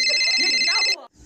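A telephone rings on an outgoing call, a steady electronic ring tone heard loud and close for about a second before cutting off, with faint talk underneath.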